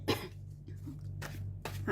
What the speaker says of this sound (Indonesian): Maaf ya, kakak batuk.